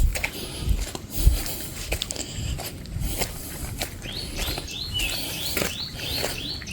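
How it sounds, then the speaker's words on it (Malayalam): Small birds chirp and tweet in forest near Chekuthan Para, a hill area in Mankada, Malappuram, with rapid repeated calls growing busier toward the end over faint rustling patter and footsteps; crickets are not clearly evident. "ചെറിയ ചെറിയ ചീവീടുകളുടെ ശബ്ദം,"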